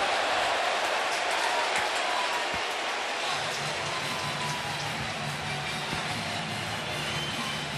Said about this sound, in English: And right now it's just flat out raining.